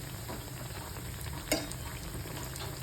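Something for motichoor ladoo fries slowly over a low gas flame, a dense even sizzle close by with one brief clink of a utensil partway through.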